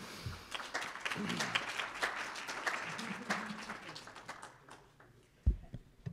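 Clapping from a morning chamber event audience swells and then thins out, with individual claps standing out toward the end and a low murmur of voices underneath.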